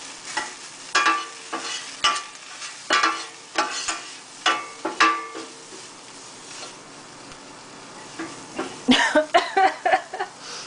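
Dry, gritty scraping and clinking of a utensil stirring dry spices including chili powder in a pan, in short irregular strokes, close by, with a quicker burst of scrapes near the end.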